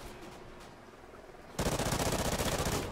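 Fully automatic gunfire in Call of Duty Ghosts Hunted mode: after a quieter stretch of ambient game noise, a loud sustained burst of rapid shots kicks in and continues to the end.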